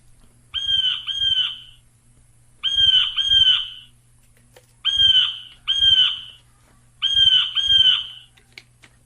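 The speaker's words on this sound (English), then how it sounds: "It's a bullfrog." A bullfrog calls in four evenly spaced bouts of paired, resonant croaks, loud and close, with short silences between each bout.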